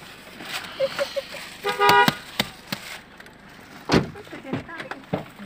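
A vehicle horn gives a short burst of honks amid street clatter and thumps, with a couple of faint beeps earlier.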